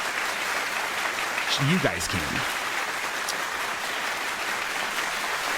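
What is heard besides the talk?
clapping sound effect played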